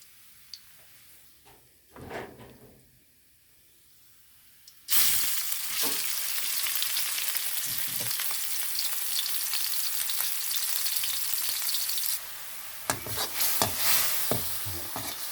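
Larb being stir-fried and shallots frying in a pan: quiet scraping for the first few seconds, then a loud, steady sizzle that runs without a break, with stirring clatter rising near the end.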